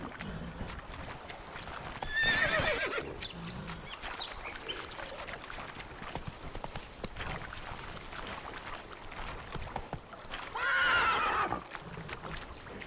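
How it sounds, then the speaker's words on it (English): Roach, a horse in The Witcher 3, whinnies twice, with a loud neigh near the start and another toward the end, over a steady background of hoofbeats and ambient game sound. "That's it, Roach."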